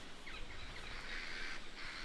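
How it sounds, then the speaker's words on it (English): Crows calling in a Norfolk memorial woodland, a few harsh caws repeating at a distance, faint over quiet outdoor background noise. "Crows are making a good sound."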